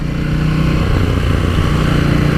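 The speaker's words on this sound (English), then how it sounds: "even though it's a parallel twin, it's got a lovely low rumble to it that mimics a V-twin" Steady low engine rumble from a 2018 KTM 790 Duke parallel-twin motorcycle with a 75-degree crank, sounding V-twin-like, loud and continuous at close range without pauses.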